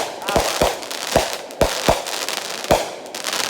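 A fireworks display sets off about six sharp, loud bangs at uneven intervals, each followed by a brief crackle and hiss.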